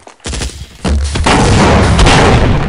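A turret gun in a shooter video game opens fire after a sharp initial blast, pouring out a loud, rapid, continuous stream of shots that keeps going to the end.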